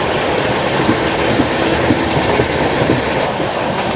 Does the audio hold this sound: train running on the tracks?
yes